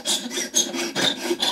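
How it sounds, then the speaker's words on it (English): A bone acoustic guitar saddle is rubbed at angles against a sanding block, giving a steady rasping scrape in about seven even back-and-forth strokes, close and fairly loud, with no talking. "I don't want to sand it flat on top, so I kind of go, you know, at angles like so. Work the block around."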